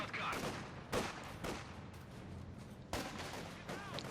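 MG-34 machine gun firing in a Company of Heroes 2 match, short bursts of gunfire at about 1, 1.5 and 3 seconds over a busy battle mix with steady background noise.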